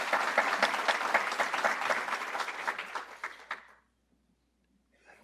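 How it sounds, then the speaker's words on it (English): A crowd at a citywide procurement fair claps for an advertising firm, a dense, fairly loud round of many hands that holds steady for about three and a half seconds, then fades out into near silence. "Let's give a round of applause to Niles Advertising."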